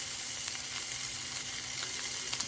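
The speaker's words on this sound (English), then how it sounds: "I want to get my chicken in here and get me a sear on it" Chicken searing in a hot pan, a continuous hiss and crackle close up with faint pops, steady throughout and free of talk.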